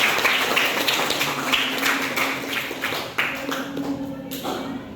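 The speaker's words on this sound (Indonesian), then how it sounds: "Kasih tepuk tangan buat kita" Classroom applause from students in a biology lesson, a steady patter of clapping hands that fills the room, gradually thinning out toward the end.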